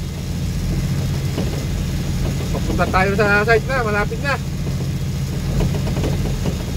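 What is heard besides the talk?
truck engine idling and driving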